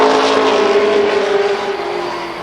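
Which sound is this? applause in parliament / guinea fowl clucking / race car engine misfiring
race car engine misfiring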